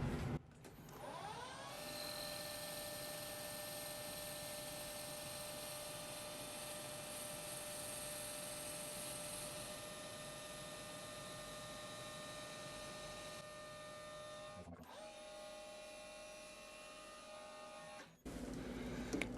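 A hobby lathe hard-turns the outer diameter of a precision bushing with a CBN tool, giving a steady, close machine whine with several sustained tones. It runs evenly, cuts out briefly near the end, then resumes.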